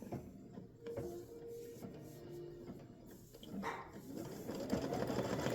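An embroidery machine stitches vertical lines on a memorial panel design, giving a quiet mechanical whir with rhythmic needle clatter and small clicks, rising slightly toward the end.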